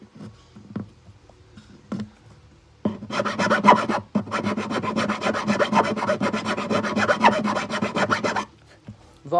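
Guitar bridge pin hole being reamed in wood, a loud continuous scraping rasp that runs for several seconds after a few short quiet strokes, then stops.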